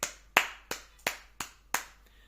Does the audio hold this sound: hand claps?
yes